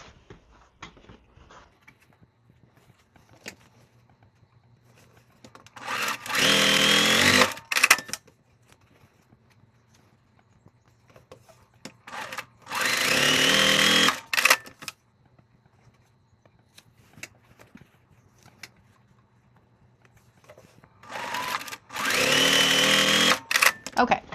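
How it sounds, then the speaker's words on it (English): A home sewing machine joins quilt block pieces for an hourglass block in three separate bursts of fast stitching, each a few seconds long, with quiet handling between runs. "and then I'm going to sew it together."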